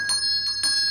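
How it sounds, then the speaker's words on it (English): An indoor bell rings in a quiet room, with three quick bright strikes in about a second and their tones ringing on between them, with no talk. "who's ringing the bell?"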